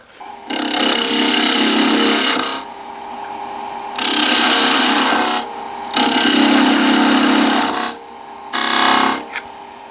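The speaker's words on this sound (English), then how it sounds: "I'm going to take that down with a skew initially." A skew chisel cuts a twig vase turning on a wood lathe, giving loud broadband scraping and hissing in four sustained bursts with short pauses between them. No one speaks.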